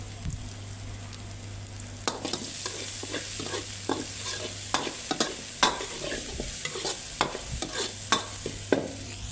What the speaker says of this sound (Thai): ดูใส่แล้วก็คนให้เข้ากันนะ